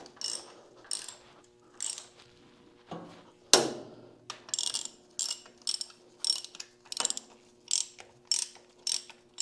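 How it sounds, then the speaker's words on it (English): Safety wire is twisted tight on a 1929 John Deere GP transmission with a repeated ratcheting, clicking whir, in short bursts with pauses between them and one louder clank partway through. "Now these will all get safety wired. Just going to draw it in tight."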